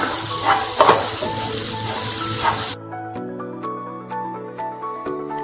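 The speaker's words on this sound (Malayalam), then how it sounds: "തേങ്ങ നല്ലതായി ചൂടായി വരുമ്പോഴത്തേക്ക് അതിലേക്ക് ഒരു 4 കൊച്ചുള്ളി ചെറുതായി അരിഞ്ഞത് ചേർത്ത് നന്നായി മൂപ്പിച്ചെടുക്കണം" Grated coconut and chopped small shallots roasting in a hot pan give a loud, steady sizzle with stirring scrapes for about three seconds, then the frying cuts out and a quieter tail follows.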